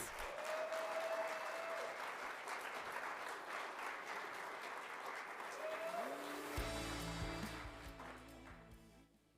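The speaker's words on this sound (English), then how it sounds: "Let's all give ourselves a big hand of applause" Audience applause at a DA Johannesburg candidates launch, a sustained wash of clapping that fades out toward the end as a low tonal hum rises underneath.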